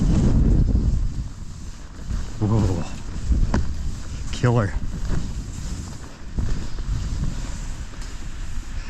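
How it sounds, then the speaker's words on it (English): Strong gusting wind on an upper ski mountain at Snowbird roars and buffets the microphone in heavy, uneven rushes, and a man briefly exclaims over it. "It is getting brutally windy."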